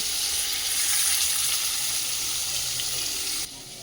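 Snakehead (shol) fish dropped into hot oil in a pan, giving a loud, steady close sizzle that drops suddenly in level near the end.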